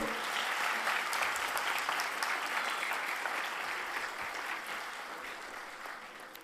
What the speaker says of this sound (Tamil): இந்த கைதட்டு பத்துமா அக்காவுக்கு?